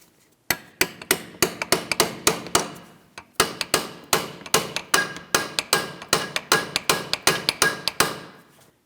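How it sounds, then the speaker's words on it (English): Rapid, sharp metallic strikes of a hammer on a chisel driven between the ears of a 2007-2014 Ford Edge front steering knuckle, evenly paced in two bursts, loud and close. "Now we can continue on with a hammer and a chisel in between these two ears."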